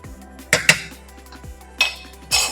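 Metal pan clanking and scraping as roasted rava is tipped into another vessel, a handful of sharp metallic knocks and clinks at irregular intervals, close and fairly loud with no talking.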